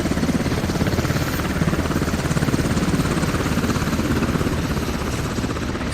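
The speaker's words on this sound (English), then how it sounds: "an enemy helicopter actually passed us and landed to our east" An enemy helicopter in a tactical video game thumps and whines steadily as it flies past, its loud, continuous rotor and engine drone filling the scene without any voices.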